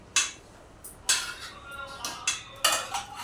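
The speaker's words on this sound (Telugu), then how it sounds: "ఎక్కువ కలపకూడదు అందుకే ఒకసారి కలుపుకుంటున్నాను అంతే" Fish curry made with pond fish is stirred once in a pot, producing a few sharp metallic clinks and scrapes of a utensil against the vessel, spaced apart over quiet background.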